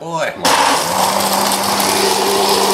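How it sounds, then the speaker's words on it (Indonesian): Kitchen blender whirring as it blends ingredients with water, a loud constant motor drone that kicks in sharply after a short lower-pitched start-up and runs steadily throughout. "Kita blender lah sekitar 5 menit kurang lebih."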